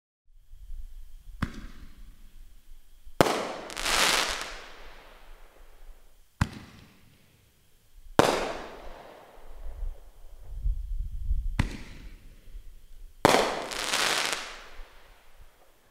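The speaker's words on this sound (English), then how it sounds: "It's the Black Cat Star Spangled Cannon." A Black Cat Star Spangled Cannon firework goes off in a string of sharp, loud bangs, each followed by a crackling, hissing burst that fades before the next, about six reports spaced a couple of seconds apart.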